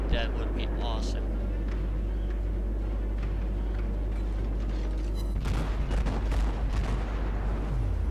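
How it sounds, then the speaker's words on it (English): Naval guns on a Cleveland cruiser in World of Warships fire high explosive shells, heavy booming salvos with a sharp burst mid-clip and rumbling mechanical and water noise beneath, while a commentator talks. "Let's fire some more of the beloved high explosive at him then."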